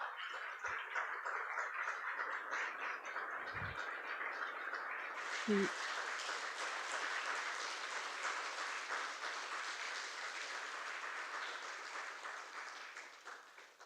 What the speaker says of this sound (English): give them an applause